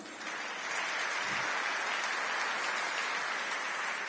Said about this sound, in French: Acclamons les mamans.